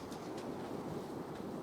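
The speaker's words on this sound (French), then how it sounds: "C'est du vent." Wind blows in a low, continuous rumbling gust, a steady roar with no voices over it.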